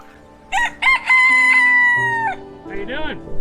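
A rooster on Half Moon Cay crows nearby, a couple of short clucks leading into one long, loud cock-a-doodle-doo, followed by a brief voice in the background.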